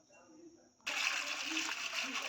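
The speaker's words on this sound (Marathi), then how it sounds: "हळूवार पद्धतीने मी यात पोटॅशियम ओतत आहे" A sudden hiss of potassium hydroxide pouring into water starts partway through and continues steadily, bright and close, with soft talk faintly underneath.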